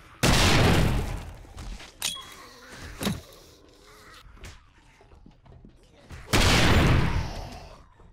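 Grenade blasts in the video game 7 Days to Die: two loud, broad explosions near the start and end, each fading over about a second, with sharp gunfire-like cracks between them.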